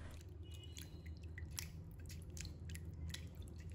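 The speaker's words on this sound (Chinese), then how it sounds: "用清水多清洗几遍。" Raw chilled chicken wings rinsed in clean water after a salt-water soak, giving soft wet squishes and drips against a steady low rumble of running water, with no voices.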